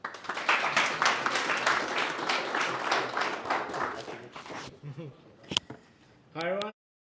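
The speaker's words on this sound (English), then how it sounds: "Please give the Vedran big applause." Audience clapping welcomes a speaker at a ZgPHP meetup, lively and close for about four seconds before thinning out, followed by brief voices and a few knocks.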